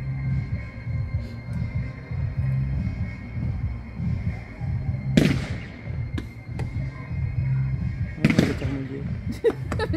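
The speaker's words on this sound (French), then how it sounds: "Le terrain de foot, c'est limite quand même pour faire un feu d'artifice." Fireworks launched over a football pitch at a chestnut festival, with two sharp bursts some seconds apart over a steady crowd murmur, as people chat nearby.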